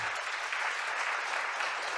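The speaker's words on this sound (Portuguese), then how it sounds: "vou pedir um aplauso ao Paulinho também." A church congregation applauds steadily, a dense even clatter of many hands clapping throughout.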